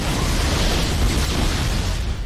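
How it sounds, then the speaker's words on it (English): Grenade blast in Halo, a loud, close, broadband explosion that fills the whole stretch as one sustained rumbling roar with no quiet gaps. "Grenade."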